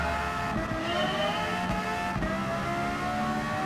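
A Lexus LFA's V10 with a racing exhaust screams on track in Gran Turismo 7, sustained high-revving buzzy engine tone with quick shifts, loud and continuous.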